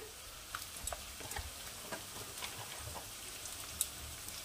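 Chopped small onions frying in hot oil, a quiet steady sizzle with scattered soft pops and crackles, close but low in level, with no talk.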